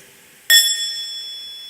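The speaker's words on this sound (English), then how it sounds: "for you to wake up the bell by making a half sound, not a full sound, just a half sound like this." A meditation bell is struck once with a soft half strike, giving a clear ringing tone that slowly fades.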